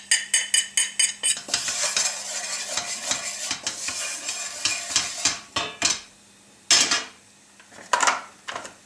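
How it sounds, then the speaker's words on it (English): Spices tipped into hot rapeseed oil in a pan: a burst of sharp clinks and rattles, then crackling sizzle with repeated metallic utensil knocks and scrapes, loud and close, with brief pauses. "I'm adding my spices into the pan."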